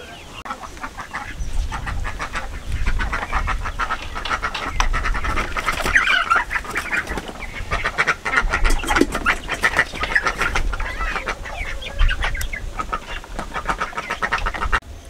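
Home-raised local chickens cluck and call continuously in a rural yard, with other fowl mixed in and steady background noise across the whole stretch.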